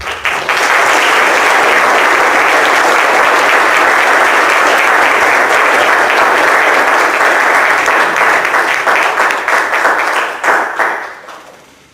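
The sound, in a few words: audience applause for a speaker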